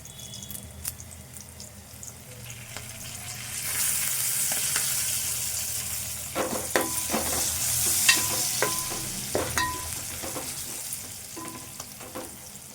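Curry leaves and onion frying in hot oil for an okra soup, a steady sizzle swelling as the leaves go in, with clinks and scrapes of a stirring spoon against the pan, close and without speech.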